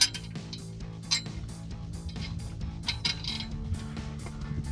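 Metal flat washers and nuts for a Jeep Wrangler TJ exhaust install clink and rattle together close up, a quick series of light metallic chinks and taps over a quiet background.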